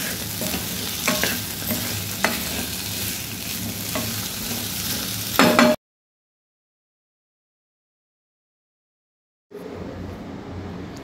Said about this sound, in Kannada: ಮೀಡಿಯಮ್ ಫ್ಲೇಮಲ್ಲಿ ಇಟ್ಕೊಂಡು ಫ್ರೈ ಮಾಡ್ಕೋಬೇಕು.